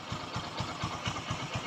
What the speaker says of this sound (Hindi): स्टार्ट रख के इतना देर रखना है कि यानी कि हमारी इंजन हीट हो जाए